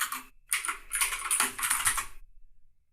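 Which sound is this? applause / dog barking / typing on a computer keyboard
typing on a computer keyboard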